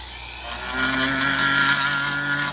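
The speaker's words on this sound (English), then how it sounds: "All I did was I took this tapered end burr and I'm just following the lines, and we're going to sand it up" Rotary tool fitted with a tapered burr sanding wood for an intarsia piece, a steady close high-pitched whine that holds constant throughout without speech.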